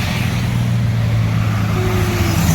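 An Al Hijrah bus rumbles past nearby, a steady low engine drone with a faint rising whine toward the end.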